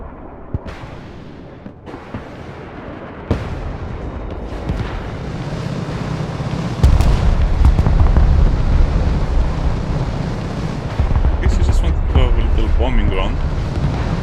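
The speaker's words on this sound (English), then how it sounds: "Bombing run." Explosions from a bombing run in the war game Broken Arrow come as several sharp booms followed by a heavy rumbling roar that builds midway and stays loud. A voice talks over parts of it.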